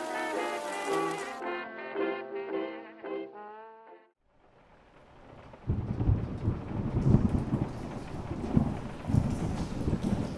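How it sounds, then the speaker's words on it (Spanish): Heavy rain pours steadily against a roof, walls and windows during a thunderstorm, with deep rolling thunder rumbles building in the second half; a musical passage plays before the storm swells in. "En el exterior llovía ahora copiosamente, con densas cortinas de agua golpeando contra el inseguro techo, muros y ventanas"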